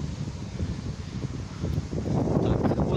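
Gusty wind in the town of Staraya Russa buffeting the microphone, a continuous broadband rush that swells stronger toward the end.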